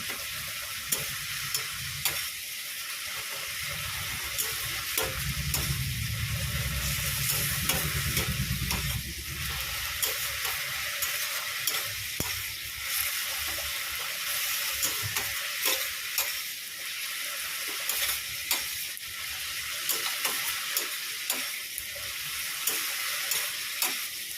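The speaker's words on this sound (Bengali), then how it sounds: "এই শাকটাকে খুব ভালো করে ভাজবো নুন হলুদ দিয়ে দিয়েছি" Leafy greens stir-frying in a pan with salt and turmeric: a continuous close sizzle with scraping and stirring strokes throughout, no talk.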